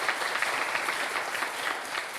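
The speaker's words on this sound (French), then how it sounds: "est-ce qu'on peut l'applaudir?" An audience at a French quiz show applauds a contestant on the throne seat, a fairly faint, even wash of clapping heard alone.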